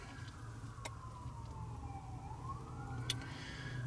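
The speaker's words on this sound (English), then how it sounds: "We hear some sirens in the background" Distant emergency sirens wail continuously in a mall parking lot at night, the pitch sweeping slowly down and then back up over a steady low background rumble.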